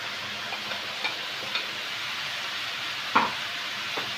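Vegetables and onions sautéing in a pan with dill for a baked lamb and onion tray, giving a steady soft sizzle with a few light stirring clicks and one sharper scrape near the end.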